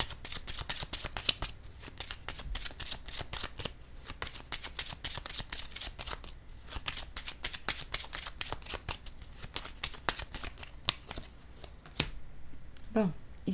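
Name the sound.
tarot cards being shuffled and handled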